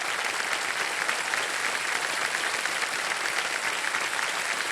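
Studio audience at a televised quiz show breaks into sustained, dense applause, loud and steady with no pause, many hands clapping together in a large room.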